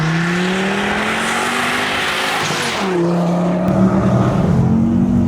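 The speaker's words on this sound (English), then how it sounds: "we're going to feel what that 5-cylinder is all about" Ford Focus ST with a five-cylinder engine accelerating on a road, heard from inside as a loud, steady engine drone whose pitch climbs, dips at a gear change, then rises again, with road and wind noise and a brief voice over it.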